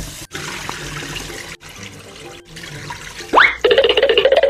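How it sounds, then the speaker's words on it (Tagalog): Running water splashes over rice as it is rinsed in a container, loud and close. The flow breaks off briefly a few times and ends in a rising gush with bubbling. "So hugasan na natin itong bigas."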